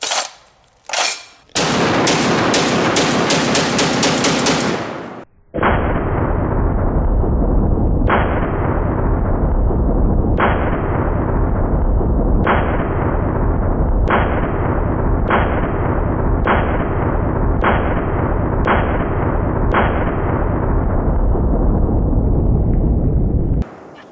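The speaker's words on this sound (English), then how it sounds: "the best way to check the function of this gun is by doing a mag dump" A Barrett .50 caliber rifle fires a rapid magazine dump outdoors: a quick string of loud close shots at the start, then about a dozen heavy booming reports spaced a couple of seconds apart, each ringing out with a long echo.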